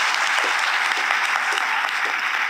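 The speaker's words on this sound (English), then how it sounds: "So let's give him a round of applause." An audience applauds at a medical college white coat ceremony. The clapping is loud, dense and steady, coming from a large crowd throughout.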